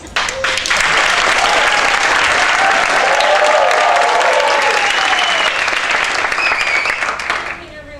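A big, dense round of applause at an environmental awards ceremony greets the Spanish Minister of Environment. It stays loud and steady for most of its length, with voices calling out over it, and fades near the end.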